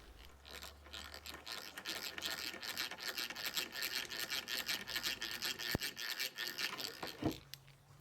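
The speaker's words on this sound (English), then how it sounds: "I'll drill the holes with this antique egg beater drill" An antique hand-cranked egg beater drill, about sixty years old, bores holes in pallet wood, giving a steady close rasping, whirring grind with rhythmic ratcheting pulses over several seconds. A couple of sharp knocks come near the end before it stops.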